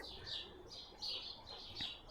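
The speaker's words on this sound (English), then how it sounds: "Listen to the birds. This is dusk." Birds sing and chirp at dusk around a garden cottage, with repeated high twittering phrases in steady bursts over quiet background hiss, moderately near and fairly soft, with no talk.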